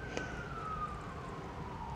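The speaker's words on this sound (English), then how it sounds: "background noise, if you can hear that police car." A police car siren wails steadily and faintly in the distance outside, its pitch slowly falling as it passes under a constant broadband room noise.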